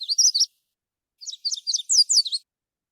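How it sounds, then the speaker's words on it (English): Two warbler songs, one from a Magnolia Warbler and one from a Yellow Warbler: a short burst of clear, high notes, a pause, then a longer run of quick chirping phrases, close and alone without any talk. "One's a Magnolia Warbler, which we heard earlier, and one's a Yellow Warbler."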